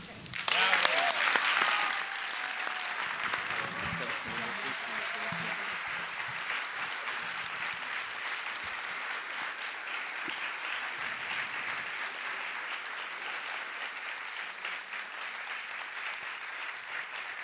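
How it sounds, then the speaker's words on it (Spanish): Sustained audience applause at a medal award ceremony, dense and steady throughout, with a brief voice or louder burst near the start before the clapping settles into an even roar. "Con este fuerte aplauso"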